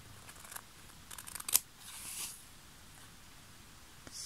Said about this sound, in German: Das schneiden wir auch weg.